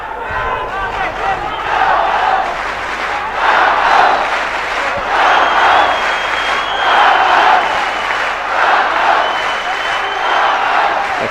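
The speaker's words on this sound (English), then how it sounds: "The crowd here really are getting behind their fighters. Dudaev being cheered on." A crowd at an ACA mixed martial arts bout roars in steady swelling waves, cheering on fighter Abdul Rakhman Dudaev, loud and continuous with rising surges throughout.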